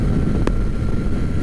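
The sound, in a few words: Kawasaki ZX-4RR motorcycle accelerating in sixth gear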